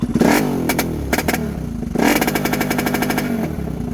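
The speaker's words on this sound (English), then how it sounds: "I'm rev limiting, just so you see." Lifan KP Mini 300 motorcycle engine held against its 6,000 rpm rev limiter, the revs climbing, cutting out in rapid stuttering bursts, dropping and climbing again, loud and close.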